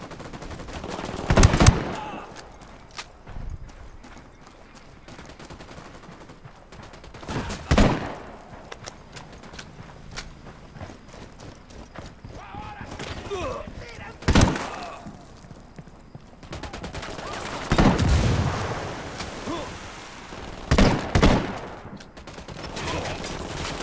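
Ghost Recon Wildlands squad gunfire: several sharp, loud bursts of shots at irregular intervals, separated by quieter stretches of ambient noise, with low voices in between.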